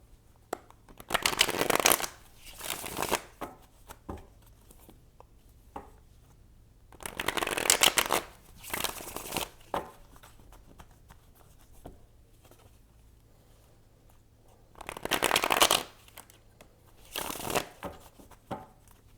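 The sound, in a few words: shuffling tarot cards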